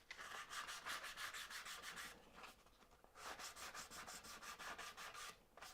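Excess wood is trimmed off a dovetail joint for a wall cabinet with quick, rhythmic rubbing strokes in two short runs separated by a brief pause. The sound is faint and close, and no one speaks.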